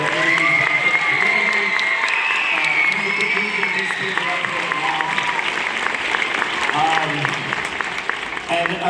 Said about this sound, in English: One more round of applause for Mr. Vitia.